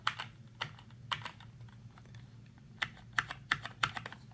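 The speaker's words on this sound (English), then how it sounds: "you're not going to be making a racket while you are typing on this" Keys on a Corsair K57 or K60 keyboard are typed in irregular, soft clicking strokes, some close together and some spaced apart, fairly quiet over a low steady background hum.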